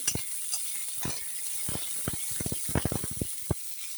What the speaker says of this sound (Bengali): এখন টমেটো আর শুকনো লঙ্কা ভাজা হয়ে গেছে